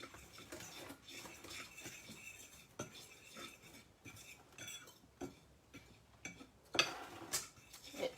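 Quiet stirring of seasoning into a chicken piccata mixture, with soft scraping and light clinks of a utensil against a bowl, steady and close, plus a few sharper taps.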